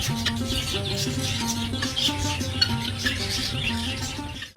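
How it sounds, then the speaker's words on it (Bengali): Birds chirp and twitter at the Lahiri Baba ashram, bright calls running steadily throughout over a low tonal hum in the background. "কিছু পাখিদের কিচিরমিচির শুনতে পারবেন"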